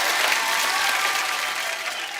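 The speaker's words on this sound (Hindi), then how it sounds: "जोरदार तालियां तो बनती" A studio audience on a TV comedy show fills the space with thick, sustained applause that stays loud and even, slowly easing toward the end.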